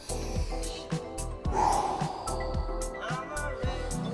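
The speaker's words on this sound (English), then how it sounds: "One more stretch and breath. 2 more breaths." Deep rhythmic breaths during a yoga breathwork flow, close and audible inhales and exhales with a sharp gasp midway and faint background music.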